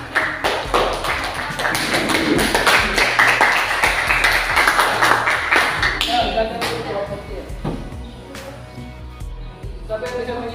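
A classroom of students applauds for a presenting group, a dense patter of many hands clapping for about six seconds before thinning out into scattered claps and light room noise.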